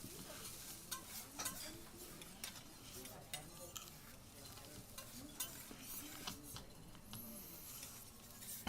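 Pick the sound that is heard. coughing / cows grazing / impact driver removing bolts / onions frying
onions frying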